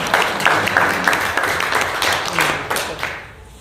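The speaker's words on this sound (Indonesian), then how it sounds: "Tepuk tangan bagi Raja kita." Applause from a church congregation at a thanksgiving retreat service, a steady wash of many hands clapping at moderate loudness that fades toward the end.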